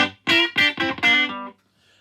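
Dry Fender Vintera Telecaster electric guitar, four loud, clean plucked notes in a quick phrase, the last ringing out briefly before silence.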